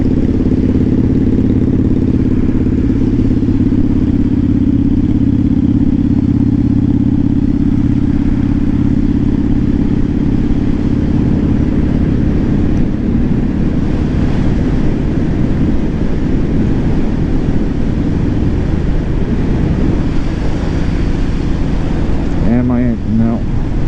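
A Kawasaki motorcycle and a Suzuki Boulevard cruise together at an easy pace, their engines droning steadily and loudly up close with a constant low rumble and wind rush, holding even throughout with slight shifts near the end.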